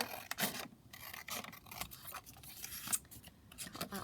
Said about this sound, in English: So let's just cut that down like that.